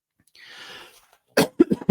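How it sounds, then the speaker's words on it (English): A single breathy cough or throat-clearing burst near the mic at an outdoor protest in Dublin, followed by a person starting to speak. "Please forgive my cough."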